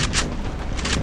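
Gunfire in a shooting video game: two loud, sharp bursts of shots, one near the start and another near the end, close and punchy with a rumbling tail between them.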